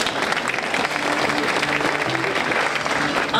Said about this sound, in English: Could the people in the cheaper seats clap your hands?